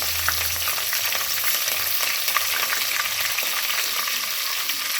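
Green chillies frying in hot oil in a pan while making poha, a loud, continuous close-up sizzle with fine crackling spatter throughout and a faint low hum at the start, no speech.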